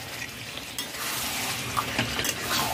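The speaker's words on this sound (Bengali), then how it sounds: "নাড়াচাড়া করে নেব।" Chicken chaap frying and sizzling steadily in a pan while being stirred, with faint spoon scrapes over a continuous close hiss.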